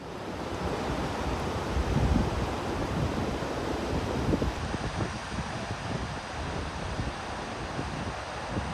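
Sea waves break and wash continuously along the rocky Cornish coast at Tintagel, a loud, close roar of surf with gusting wind buffeting the microphone.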